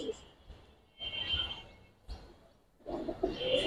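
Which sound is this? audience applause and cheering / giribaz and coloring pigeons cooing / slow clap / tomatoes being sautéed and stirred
giribaz and coloring pigeons cooing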